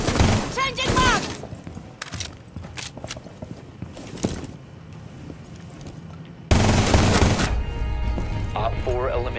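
Gunfire in the tactical shooter game Rainbow Six Siege, with sharp bursts and scattered single shots amid game effects, then a louder sustained stretch of firing and action near the end; radio-style voices are briefly heard.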